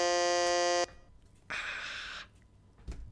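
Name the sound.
quiz buzzer sounding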